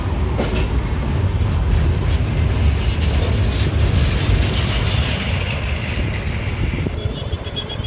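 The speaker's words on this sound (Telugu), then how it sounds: "ఇంకా బండి వదులుతున్నాడండి. ఇంకా బెజవాడ యాడ్లోకి వెళ్తుంది బండి." An express train on the Guntur–Vijayawada branch line pulls away toward the Vijayawada yard, a loud steady rumble of rolling wagons with faint wheel clatter throughout.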